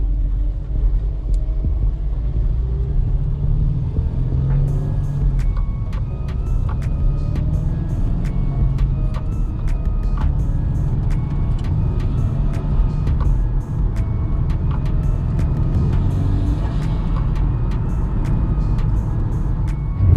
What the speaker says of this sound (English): The car is running absolutely perfect.